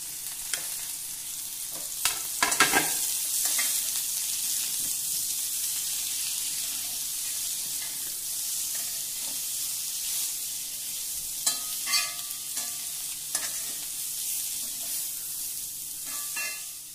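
Onion, cabbage and carrot stir-fried in a pan for a vegetable chapathi roll filling sizzle steadily up close, with sharp scraping stirs and spatula knocks breaking in at intervals.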